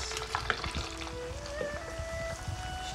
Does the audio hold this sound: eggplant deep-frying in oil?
yes